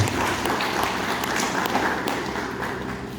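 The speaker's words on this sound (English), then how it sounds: "let's give a round of applause for our Samaritan woman here" A church congregation applauds during a sermon, a steady, dense clapping of many hands in a reverberant hall, gradually fading slightly toward the end.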